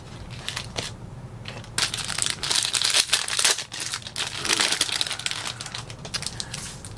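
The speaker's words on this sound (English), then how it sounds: "Let's rip them all open." Trading card packs are torn open one after another, with loud crinkling, crushing and tearing of foil wrappers close by in irregular bursts, and no talk.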